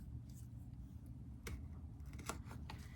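Kitchen scissors snip into a vanilla bean, producing a few faint, close, crisp clicks spread over a few seconds against a quiet background.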